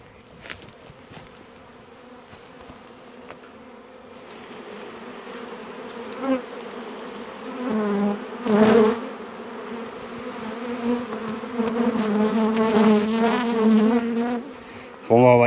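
A swarm of honey bees, roughly three kilograms, hums steadily as it is swept up and tipped in front of a hive, with a continuous close buzz that swells in places and individual bees passing loudly near.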